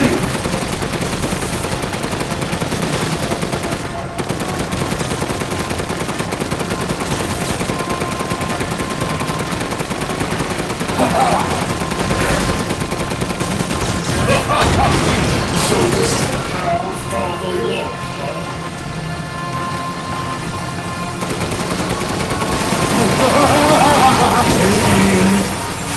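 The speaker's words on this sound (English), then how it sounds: "Keep shooting!" Rapid gunfire and a rumbling engine-like roar run steadily through a Resident Evil Village boss fight, loud and dense, with voices speaking over the action.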